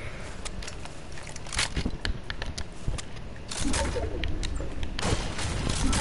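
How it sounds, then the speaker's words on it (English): Video game combat with a double rocket launcher firing, heard as a series of sharp blasts and crackling bursts over a busy background, several loud hits spread across the stretch with a heavier cluster near the end. "Guys, double rocket launcher."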